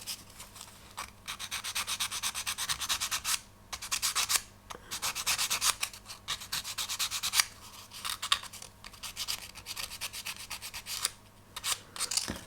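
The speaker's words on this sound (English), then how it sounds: "we can use a very fine sandpaper and just give it a bit of a smooth" Fine sandpaper rubbing back and forth over a small wooden part of an HM Sherbourne ship model kit, a steady series of close, dry scratchy strokes with brief pauses between passes, no talking.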